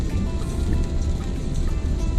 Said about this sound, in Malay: diselimuti hujan dan kabut